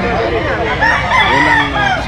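A Golden Boy fighting cock crows once in a loud, close, drawn-out call that fills the whole moment.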